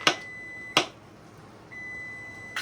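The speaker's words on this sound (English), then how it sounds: "there goes the timer" A kitchen timer beeps in sharp, high electronic chirps, three short bursts spaced apart, with a faint lingering tone between them in a quiet room.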